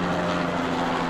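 A helicopter flying over the skyscrapers of New York City gives a steady, broad rotor and engine drone that fills the whole moment without a break.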